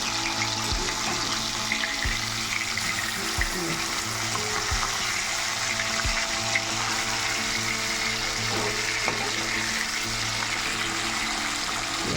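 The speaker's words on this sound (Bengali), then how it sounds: "একদিকটা ভাজা হয়ে গেছে, এবার উল্টে দিচ্ছি" Bhangor bata fish fry in plenty of oil, a loud continuous sizzle close up with periodic low thumps and scrapes as pieces are turned.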